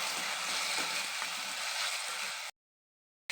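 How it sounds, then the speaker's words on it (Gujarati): Green garlic, ginger and chillies sautéing in a pan give a loud, dense, even sizzle for a couple of seconds before cutting off abruptly to silence. "હવે લીલું લસણ નાખી દેશું આદુ મરચાં નાખી દેશું સાતળી લેશું"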